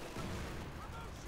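A rifle grenade fired in a war video game, a dense, short burst of booming gunfire-like blast and rumble that fills the moment loudly with no pause.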